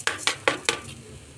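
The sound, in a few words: stirring grated coconut and sugar in a pan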